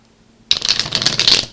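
Tarot cards shuffled by hand in a steady riffling burst of close, crisp papery flicks, starting abruptly after a brief quiet and continuing without talk.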